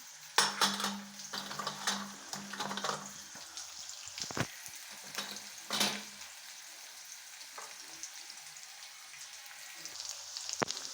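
Chillies are tossed into a hot pan and fried, with sharp clattering bursts of utensils against metal early on that give way to a quieter sizzle and occasional clinks.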